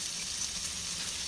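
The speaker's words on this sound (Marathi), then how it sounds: "मसाल्याला तेल सुटेल तोपर्यंत मसाला परतवा" Masala spices with chili powder and salt sizzle steadily in hot oil in a pan while a bean curry is prepared, a continuous close frying hiss with no talk.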